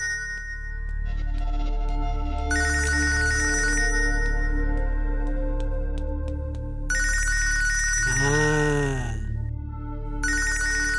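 A telephone ringtone repeats in loud electronic bursts with a warbling, melodic pattern, ringing on and off for several cycles with no talk over it.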